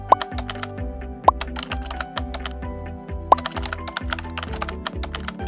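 A computer keyboard is typed on to fill in a friend's details, with quick, close clicks in uneven bursts and a few sharper taps, over a soft musical backing.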